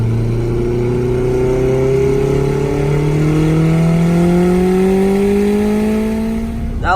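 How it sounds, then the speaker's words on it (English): An 804hp Honda Civic EG pulls hard in third gear at partial throttle, its engine note climbing steadily and loudly in pitch without a shift. It is close and continuous, with no talk over it. "Here's the third gear pull."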